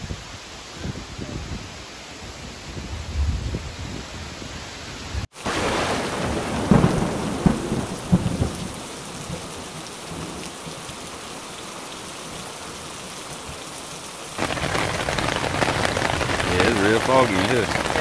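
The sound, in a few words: rain and thunder in forest while hiking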